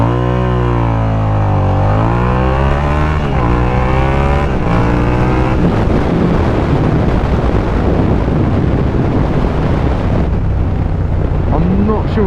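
A Suzuki SV650 motorcycle pulls away on gravel, its engine revving up through rising harmonics before turning into a loud, rough roar with heavy wind buffeting across the microphone throughout.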